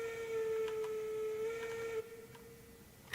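Steam locomotive whistle in a train video game, one sustained steady tone that holds for about two seconds then drops away, faint over a soft hiss.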